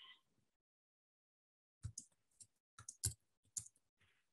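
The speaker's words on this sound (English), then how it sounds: "I'm typing myself here." Keyboard typing on a computer during an online class poll, heard as a few scattered, fairly loud clicks and taps in brief bursts after a near-silent stretch.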